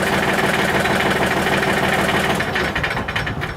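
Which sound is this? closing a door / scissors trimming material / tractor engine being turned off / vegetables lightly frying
tractor engine being turned off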